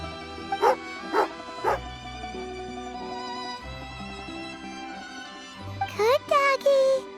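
Short bursts of dog barking and yipping from a dog in the Genshin Impact video game, three early barks and a cluster near the end, over a steady game music backdrop.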